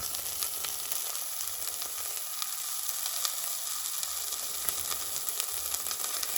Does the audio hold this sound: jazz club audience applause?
no